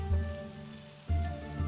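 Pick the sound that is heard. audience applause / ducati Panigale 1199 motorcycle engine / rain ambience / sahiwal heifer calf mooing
rain ambience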